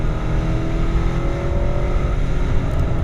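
A 2016 BMW 750i xDrive (G11 7 Series) is driven hard into a corner, its engine giving a loud, continuous low drone mixed with road and wind noise heard from inside the cabin.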